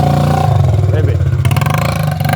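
A quad bike engine revs loudly and close, a buzzing, rattling drone that swells and dips, with a person speaking over it.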